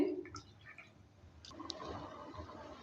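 Water splashed into a pan of bean seed dal with paneer as it cooks, a soft, quiet, close hiss and gurgle after a brief pause.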